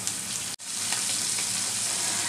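Shrimp fry in a pan with a loud, continuous sizzle. A brief cut of near-silence interrupts it early, then the dense crackle carries on.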